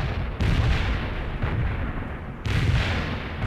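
Heavy booms from a napalm and artillery strike in World in Conflict roll out in repeated loud blasts, roughly one per second, each followed by rumbling decay, with no voices over them.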